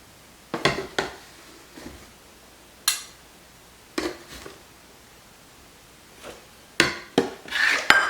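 Whole wheat flour is scooped out with a spoon for low carb breakfast bars, giving a series of scraping, tapping clicks of spoon against container, spaced irregularly and close by.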